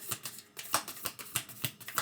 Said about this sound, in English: One more little shuffle, please.